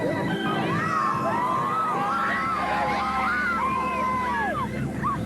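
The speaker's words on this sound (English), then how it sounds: "there is such a crowd of people here they literally can't open the door" A dense, excited crowd of fans outside a club presses around a limousine, with continuous shouting, cheering and high-pitched calls overlapping loudly throughout.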